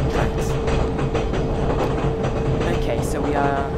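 A train running on tracks in the video game Train Simulator 2014 clatters close and loud with a steady wheel rumble and repeated clicking rail joints, while a voice talks over it.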